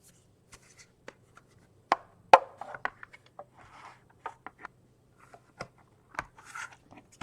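Scissors snip around a small paper die-cut square with inner scallops, giving close, crisp, irregular cuts interspersed with soft paper rustling and handling in a quiet room.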